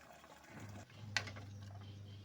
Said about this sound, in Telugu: నీళ్ళు పోసేసామండి